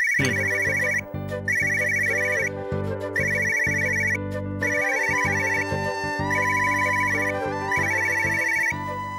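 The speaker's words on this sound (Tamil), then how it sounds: "சார், உங்கள் ஃபோன் அடிக்குது சார்." A telephone ringtone plays in a Tamil television drama scene: a bright melodic ring repeats in steady bursts, loud and close, with no talking over it.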